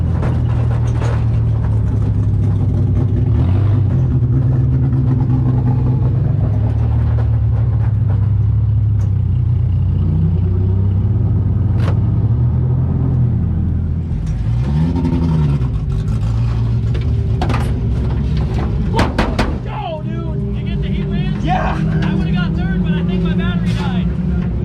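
Race cars roar and accelerate at 81 Speedway during a weekly racing event, engine rumble rising and falling throughout the clip, with talking underneath at times.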